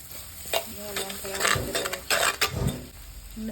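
Three eggs frying in a pan with rice to follow, hissing and sizzling as a utensil stirs and scrapes against the pan in uneven bursts and clinks, close and fairly loud.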